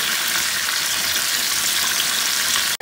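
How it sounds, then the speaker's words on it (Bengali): Raw mango pieces frying in hot mustard oil with turmeric hiss in a constant, dense sizzle close by, ending with a brief break at the very end. "এবারে কিন্তু আমি এই জল ঝরানো আমটা কিন্তু এই তেলের মধ্যে দিয়ে একটু ভাজা ভাজা করে নেব।"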